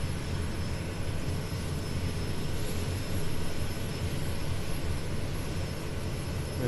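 A Kodiak 100 turboprop engine idles in Microsoft Flight Simulator before taxi, a steady low drone with a faint high whine held evenly through the whole stretch, alone without voices.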